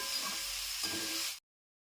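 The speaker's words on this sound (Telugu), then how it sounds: "సో ఆనియన్స్ యాడ్ చేశాక ఇవి బాగా ఫ్రై అవనివ్వండి" Onions and curry leaves frying in hot oil for a bitter gourd tamarind curry give a steady close sizzle with soft crackle, which cuts off abruptly near the end.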